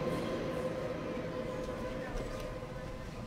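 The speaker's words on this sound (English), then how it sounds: "look for a train to go by." A subway train rumbling past beneath a New York City sidewalk, heard up through a ventilator shaft, a steady low roar with faint metallic squeal that stays loud throughout, with speech-like noise mixed in.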